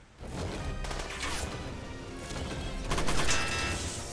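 Wanzer mech weapon fire in Front Mission, a game-style burst of repeated shots with crashing impacts, moderately loud and layered over background game sound.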